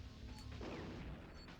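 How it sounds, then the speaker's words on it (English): An explosion in the speed training level of the Spider-Man (2000) video game, one faint, short crashing blast over low, rumbling game noise. "Explosions!"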